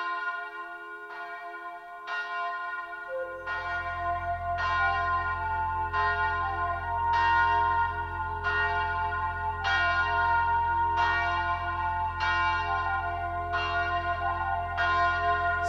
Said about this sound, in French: La grosse cloche sonne, la grosse cloche sonne, la grosse cloche sonne.